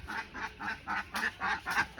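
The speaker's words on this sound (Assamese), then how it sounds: "এই যে ডাঙৰ ডাঙৰ হাঁহ আছে ইয়াতে" Large ducks kept in a farm pen quack in a regular series of loud, close calls, about eight of them in quick rhythm, with no talk over them.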